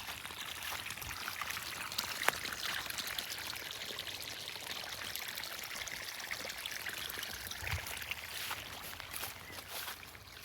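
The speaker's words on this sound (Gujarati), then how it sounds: "પાણી ચાલુ છે." Water runs steadily from a pipe on a farm field, a constant faint gushing pour with no breaks, heard from a moderate distance.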